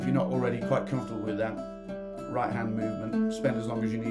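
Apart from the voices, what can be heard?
No everyday noise stands out behind the speech.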